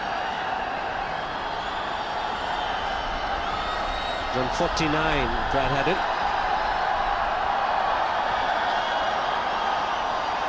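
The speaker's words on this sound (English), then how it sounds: "because the crowd being very loud" A loud sellout cricket crowd at an India vs Australia one-day international in India keeps up a steady, dense roar throughout, with a commentator talking over it.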